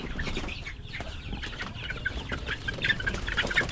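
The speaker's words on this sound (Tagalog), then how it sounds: "Siksikan sa pugad. Loko-loko din itong mga sisiyo na ito." Chicks and a hen crowd together in a farm nest full of eggs, giving busy overlapping clucks and peeps with brief rustling of feathers, steady and close throughout with no talking.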